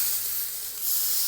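Prime rib steak sizzling on a grill pan, a continuous bright hiss and crackle that stays steady and close for a moment, with no talking.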